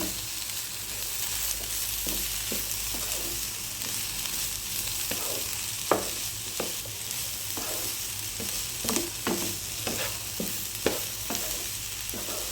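Mixed spinach greens, five varieties of cheera for a thoran, stir-fry in a pan under a steady sizzle, with irregular close scraping and tapping of the spoon throughout.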